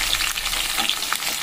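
Chopped onions fry in a pan for Rayalaseema-style sambar, a loud, dense and continuous sizzle heard up close for a brief moment with no talking.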